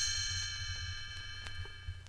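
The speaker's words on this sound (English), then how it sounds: "You will know it is time to turn the page when Tinker Bell rings her little bells" The little bells of Tinker Bell on a 1967 Disneyland Records read-along chime as the page-turn cue: a faint, sustained metallic ring with a few light bell taps, with no voices.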